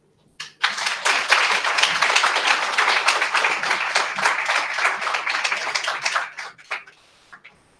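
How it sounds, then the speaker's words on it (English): At Startup Europe Week Sofia 2022, the audience applauds the European Commissioner with a sustained burst of dense clapping lasting about six seconds. It then fades into a few scattered claps. "Applause for our Euro Commissioner, Mariya Gabriel."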